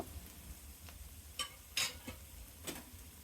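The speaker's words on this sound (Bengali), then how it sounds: "পেঁয়াজের কাঁচা গন্ধটা যাওয়া পর্যন্ত আমি কষিয়ে নেব। এবার 1 টেবিল চামচ পরিমাণ আদা রসুন বাটা দিব।" Onion and ginger-garlic paste sauté in a pan with a faint, low sizzle and a few light clicks of a spoon stirring, quiet and close.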